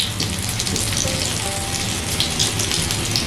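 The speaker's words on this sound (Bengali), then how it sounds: "প্রথমে আমি কিছুটা পরিমাণ পকোড়া এইভাবে তেলের মধ্যে দিয়ে দেবো।" Small tomato pakoras sizzle and crackle in hot oil, with a steady dense hiss and scattered spitting pops, loud and close without pause.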